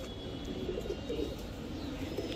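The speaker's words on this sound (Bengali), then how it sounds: "পাথর চোখের পুরান জাতের কবুতর, অনেক পুরান ব্লাডের কবুতর।" Pigeons of old pure-blood stock, pale-eyed breed, cooing softly in a low, rolling murmur with a few overlapping calls, fairly quiet and close, no talking.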